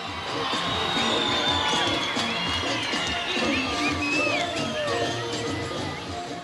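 A large, dense crowd cheers and whoops at an airport in Papua New Guinea as gold-medal weightlifter Steven Kari steps off the plane, steady and loud throughout, with voices shouting within the roar.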